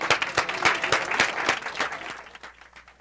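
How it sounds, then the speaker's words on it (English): Small audience at a rabbit showmanship event at the North Idaho State Fair clapping for the participants, a brief burst of applause that fades out after a couple of seconds. "Give them all a round of applause."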